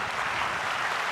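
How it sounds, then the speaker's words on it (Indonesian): A studio audience at an Indonesian talk show applauds in a brief, even wash of dense clapping, steady and fairly distant, with no voices over it. "Kita kasih tepuk tangan untuk itu."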